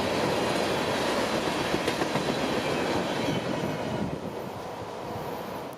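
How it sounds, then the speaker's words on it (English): Long CSX freight train carrying South Florida freight rolls past close by, a steady loud roar of wheels with rhythmic clickety-clack and faint squeals, easing slightly near the end. "it's Q452's turn to pass the cameras, with a long train of South Florida freight behind"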